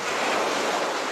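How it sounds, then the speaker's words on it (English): A recording of ocean waves played as music, a steady broadband rush of surf that stays even and continuous throughout, with no voices. "you're hearing the sound of the ocean"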